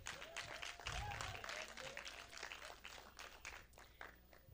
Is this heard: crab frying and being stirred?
no